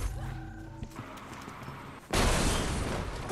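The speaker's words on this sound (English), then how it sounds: "summoning an explosion. I'm gonna blow up now." An explosion in the Resident Evil Resistance video game erupts suddenly as a loud, sustained roaring blast that follows quieter game ambience and some sharp clicks.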